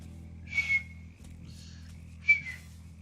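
Two short, high whistles in the video game Mafia III ring out about two seconds apart over a low, steady hum in the background.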